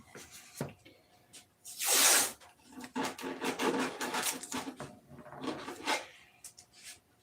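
Sandpaper rubbing and scraping over wood in a workshop, a string of short, close rasping strokes with one louder, longer swipe early on, and no talk.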